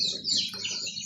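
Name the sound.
chicks clucking at a poultry seller's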